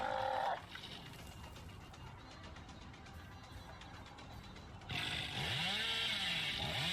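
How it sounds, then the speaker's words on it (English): Chainsaw revving from the Hillbilly killer in the horror game Dead by Daylight, a loud steady mechanical drone through most of the stretch that swells louder near the end, mixed with game sounds and no talk. "you rev your chainsaw incredibly early, and that gives the survivors a lot of info on how and when they're going to dodge you"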